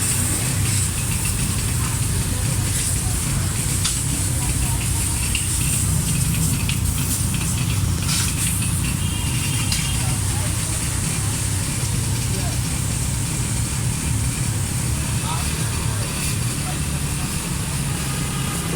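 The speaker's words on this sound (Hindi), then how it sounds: "तो हमारी बाइक पे पानी डल रहा है।" Water sprays onto a motorbike during washing at a busy service station, a steady loud hiss and rush that fills the clip alongside constant engine-like background noise.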